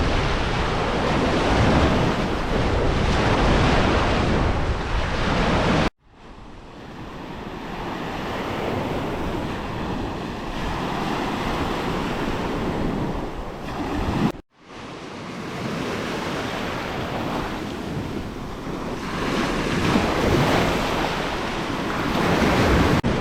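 Black Sea waves at Chornomorsk wash continuously onto the shore with heavy wind rumble on the microphone, loud and near, broken by two brief cuts.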